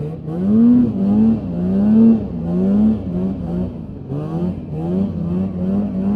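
Polaris Indy 550 snowmobile engine at full throttle on a top speed run across hard-packed snow in a field, a loud steady two-stroke drone that rises and falls in pitch in repeated surges, up close with no talk.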